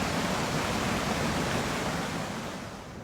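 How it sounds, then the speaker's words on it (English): A raging river roars down a valley, a dense, continuous broadband rush of water, loud and steady, fading slightly at the end, with no voices. "it's built itself, well, a raging river roaring down that stretch of valley"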